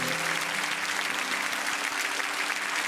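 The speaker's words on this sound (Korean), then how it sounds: "우리 다시 한 번 더 큰 박수로 격려해 드리기 원합니다." A church congregation applauds during a Sunday worship service, producing dense, steady clapping that holds evenly loud throughout.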